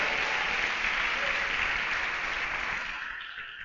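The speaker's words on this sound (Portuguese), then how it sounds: "aplauda o Senhor" Church congregation applauding together, a dense, steady wash of clapping that holds loud for about three seconds before starting to fade, with no voices over it.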